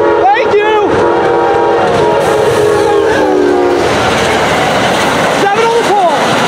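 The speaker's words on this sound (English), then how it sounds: "Amtrak 90 glides north with P40C locomotive 202 in command." A northbound Amtrak passenger train led by P40C diesel locomotive 202 passes close by, its engine roar and horn blasts swelling over rolling wheel noise, with people talking excitedly over it.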